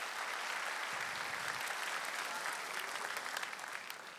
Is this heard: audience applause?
yes